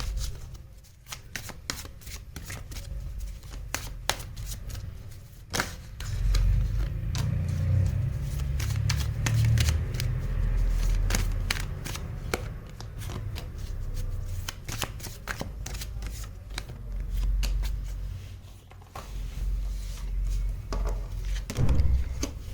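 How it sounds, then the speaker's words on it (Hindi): Tarot cards are shuffled continuously by hand, a dense riffling and rustling of card stock with soft thumps and taps, close and steady throughout, with no talking. "I'll shuffle again."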